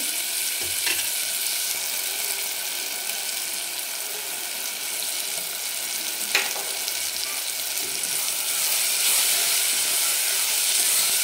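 Tomatoes with salt stirred in a frying pan sizzle with a steady, loud hiss of frying, broken by a few soft scraping strokes of the spoon; no one speaks.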